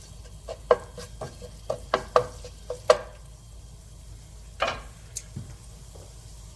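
Ginger, garlic and hot sauce stir-fry with broccoli in an oiled pan, with a quiet sizzle broken by a quick run of spatula taps and scrapes, then a few slower, fainter knocks.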